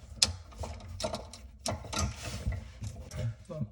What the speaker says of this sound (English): now I'm going to take this nut and I'm going to screw it in